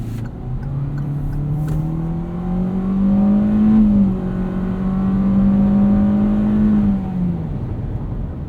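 A 2021 Kia Rio S hatchback engine revs steadily, pitch rising and holding with stepped simulated CVT shifts, a loud close drone from inside the cabin with no talking.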